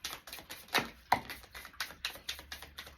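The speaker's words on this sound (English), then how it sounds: "One more shuffle." Tarot cards riffled and shuffled by hand, giving a quick run of crisp papery taps and flutters close up, with a couple of sharper snaps among them and no talking.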